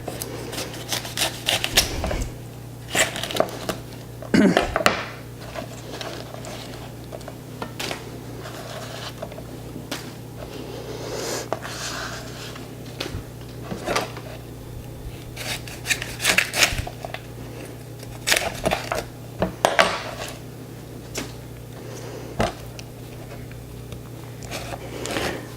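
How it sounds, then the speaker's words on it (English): Leaves are cut away from fresh artichokes, giving crisp, intermittent snaps and crunches scattered across the whole stretch over a low steady hum. "I'm just gonna try my best attack at cutting the leaves away"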